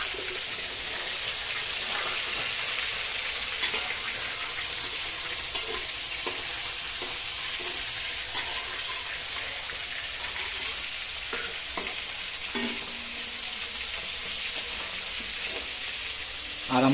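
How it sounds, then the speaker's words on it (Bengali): Tilapia fish sizzles in hot oil in a pan, with a loud, continuous frying hiss and occasional pops and stirring scrapes, with no voices. "দেখতে পাচ্ছেন আমাদের মাছটা খুব সুন্দর মা এখানে ভেজে নিচ্ছে"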